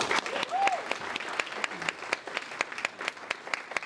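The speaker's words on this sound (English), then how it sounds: "Let's give him an awesome round of applause." Audience applause for the chamber president at a women in business awards ceremony, a steady patter of many hands clapping near and full, with a few louder individual claps standing out and a brief whistle early on.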